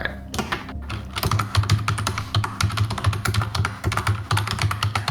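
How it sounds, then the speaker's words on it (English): Computer keyboard keys clack loudly and rapidly while someone logs in, a close, irregular stream of sharp keystrokes with no talking. "whenever you hear this large clacking of keys, it's because my monitor has entered like screensaver mode and I have to log in again"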